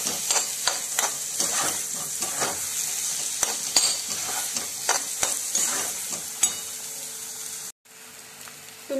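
Egg bhurji frying in a pan, a steady sizzle with repeated scraping taps of a spoon stirring it, close and clear, with a brief pause near the end.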